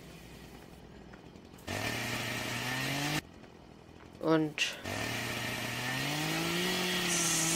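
Chainsaw in Landwirtschafts-Simulator 13 with a forestry mod, cutting trees: a steady loud buzzing engine drone that revs up and holds, broken by a brief pause and a rising whine, with someone talking briefly.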